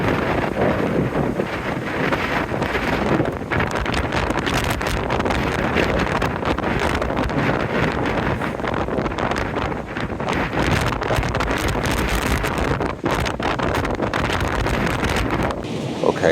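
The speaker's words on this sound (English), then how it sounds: "this is a really, really windy night." Strong night wind roars and buffets continuously around a tent, loud and close, with gusts battering the microphone and a steady rushing roar throughout.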